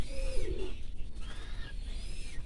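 Ornamental domestic pigeon in a backyard loft giving a few soft, low cooing calls, with faint chirps of other birds and steady background noise around it.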